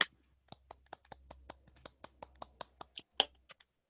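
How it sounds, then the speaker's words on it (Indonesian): A primary school class claps for a student, with about a dozen sharp, separate claps at a quick, slightly uneven pace, quiet and close, with near-silence between claps. "Beri tepuk tangan buat Gita."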